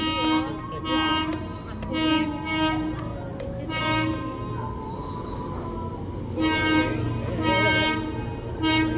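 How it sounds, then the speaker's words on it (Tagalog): A PNR Bicol Express passenger train passes with a steady rumble and repeated horn toots, loud and close, while people talk over it. "Hi, train!"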